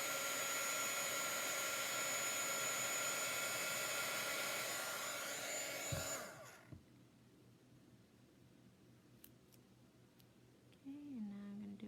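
Hair dryer blowing loudly and steadily on a chalk paste transfer stencil for about six seconds, then switching off, leaving a quiet room with faint handling noises and a brief low hum near the end.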